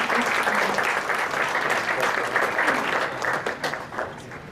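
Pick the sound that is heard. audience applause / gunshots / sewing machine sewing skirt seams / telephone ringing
audience applause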